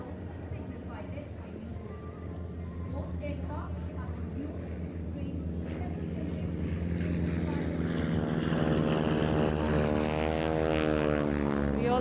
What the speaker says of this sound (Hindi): We also have along with Tiger Moth, the Harvard aircraft being flown today by Wing Commander Dheeraj Gulati.